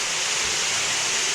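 A waterfall roars as heard from inside a cave behind it: a steady, loud, unbroken rush of falling water with no voices.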